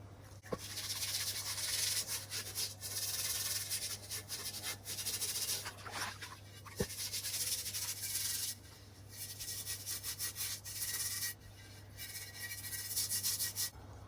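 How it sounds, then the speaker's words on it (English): Scrubbing rust off a cast iron Dutch oven (potjie camp oven) being restored with molasses: steady, close abrasive rubbing strokes in irregular bursts over a constant low electrical hum, with a few sharp knocks. "I'll keep scrubbing at this and we'll see how it comes up."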